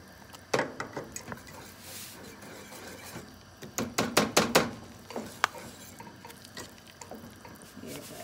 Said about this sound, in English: I'm now going to add my flour and stir it. I'm using the whisk